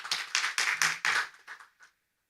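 A conference audience gives a brief round of applause: a few distinct, sharp claps in quick bursts that thin out and stop after about two seconds, leaving silence.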